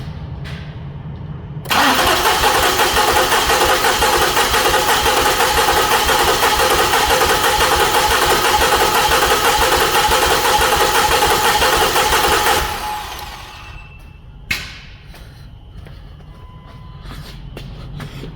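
The engine of a 2008 Lincoln MKX with an injector driver fault cranks loudly and steadily for about eleven seconds, then stops. Brief clunks follow against a quieter background.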